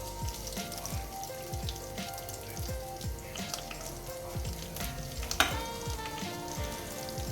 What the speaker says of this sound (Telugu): దీన్ని నూనెలో వేయించుకోవాలి